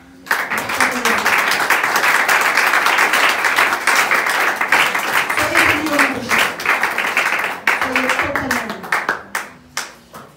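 A church congregation at a Sunday worship service applauds in a loud, dense burst of clapping, which thins near the end into separate, distinct claps, with voices faintly underneath.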